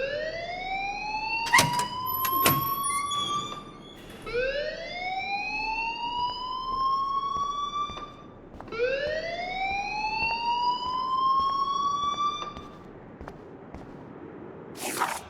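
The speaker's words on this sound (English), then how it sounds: "please turn off that alarm since that's your job" A school fire alarm in the game Life Is Strange wails in three long rising electronic sweeps, loud and steady, with sharp clicks and bursts between the first cycles and no voices.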